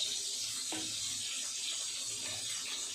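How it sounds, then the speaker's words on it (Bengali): Soybean chunks frying in a pan for soya chilli give off a quiet, steady sizzling hiss that runs through the whole stretch, faint and even with no voices over it. "আবারও কিছুটা পরিমাণ সয়াবিন ভাজার জন্য দিয়ে দিলাম, ওটা ভাজা হোক।"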